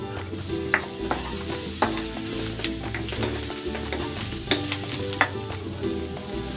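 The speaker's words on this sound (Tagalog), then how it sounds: "Maglalagay ako ng cooking oil. Igigisa ko na tong luya." Ginger sautéing in hot cooking oil for a Bicol-style chicken dish, a steady close sizzle broken by repeated sharp spatula scrapes and taps against the pan.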